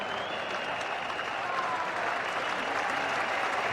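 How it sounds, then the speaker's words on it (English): A big cricket crowd at Lord's cheers and applauds for England during a 2001 one-day international against Pakistan, a dense, continuous roar of clapping and voices with no break. "Encouragement from this big crowd for England."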